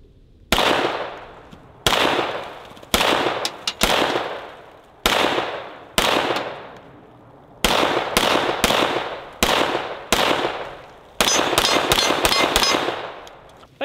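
A .45 pistol fires repeatedly at 12-ounce soda cans on a table outdoors: about a dozen loud, sharp reports, each with a ringing decay, spaced roughly a second apart before a faster burst at the end, with no talking.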